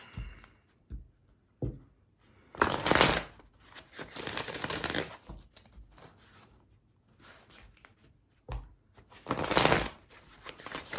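Tarot cards are shuffled by hand in irregular bursts, with soft riffling and flicking sounds separated by short quiet pauses, close and fairly loud, with no voices.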